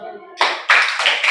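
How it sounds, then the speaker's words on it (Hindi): Schoolchildren in a government school classroom in Badli village break into applause for a classmate, a brief voice giving way to loud, dense clapping that swells in several close bursts. "चलो इस बच्चे के लिए ताली बजाओ सब।"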